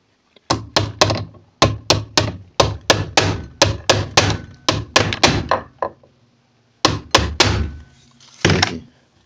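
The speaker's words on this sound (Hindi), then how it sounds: "हथौड़ी से यहाँ पे इस पर मारेंगे तब ये उधर जाएगा" A hammer strikes a presser foot part on a large sewing machine, giving a loud, close series of sharp metallic knocks in quick bursts, each with a short ringing decay, then a pause and two more groups of blows.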